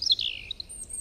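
Small bird chirping in a short burst of high, bright tweets near the start, then fading into a faint trailing whistle in a quiet indoor setting.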